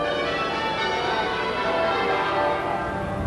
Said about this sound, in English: Bells peal on.